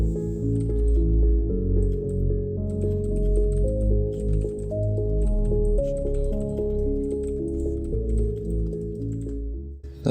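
Steady keyboard typing on a computer, a fairly close, even patter of key clicks running through the whole stretch over a low background hum, with no one speaking.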